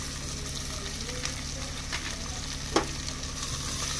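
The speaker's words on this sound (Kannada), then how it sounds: "ಉಳ್ಳಾಗಡ್ಡಿ ಹಾಕಿ ಅದು ಕೆಂಪು ಕಲರ್ ಬ್ರೌನ್ ಕಲರಿಗೆ ಬರೋವರೆಗೂ ಫ್ರೈ ಮಾಡ್ಕೊಳ್ಳೋಣ" Onions sizzling steadily in a pan as they fry toward brown, a continuous close crackle with occasional faint stirring clicks and no talking.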